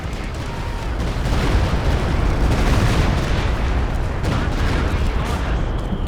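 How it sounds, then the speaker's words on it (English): A walking Stuka rocket barrage in Company of Heroes 2: a dense, continuous roll of explosions and booms, loud and sustained, with a voice faintly underneath. "There's another walking Stuka barrage."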